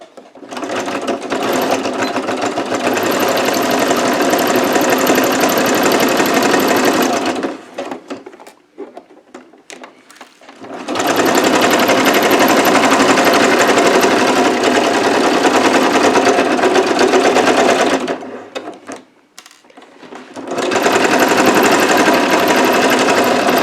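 Sewing machine stitching the lining of a bag made from recycled denim jeans, about 1.5 cm from the edge, running loud and steady in two long bursts with short pauses between them.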